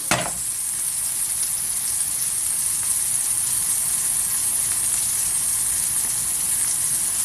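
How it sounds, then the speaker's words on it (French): Butter melting in a hot pan over high heat, an immediate loud sizzle that settles into a steady close hiss and crackle, with no talking. "Vous voyez, hop, on fait fondre le beurre."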